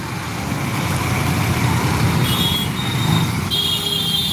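A heavy traffic jam on a city street in Mehsana, India rumbles with idling trucks, cars and buses, a continuous low engine drone with brief high horn beeps sounding over it.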